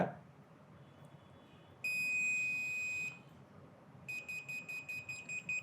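A radio-frequency hidden camera detector sounds its alarm: first a sustained high-pitched beep, then a rapid series of short, evenly spaced beeps, all over faint background hiss.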